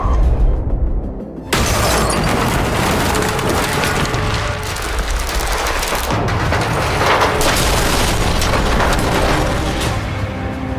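Explosions and smashing destruction in the Quantum Break video game, with a sudden loud blast followed by sustained crashing, shattering debris and rumbling booms that continue densely throughout.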